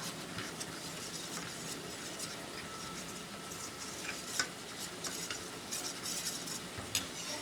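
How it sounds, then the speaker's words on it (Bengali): A spoon stirs rice flour into a little water in a bowl, a faint, close scraping and swishing that goes on steadily with light clinks against the dish and no talk. "এবার এই চালের গুঁড়োটা একটু জল দিয়ে গুলিয়ে নেব।"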